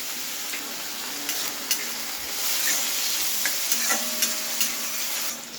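Potatoes seasoned with turmeric and salt fry in a kadai with a soft, continuous sizzle. Occasional stirring clicks and scrapes sound close by, with no voices.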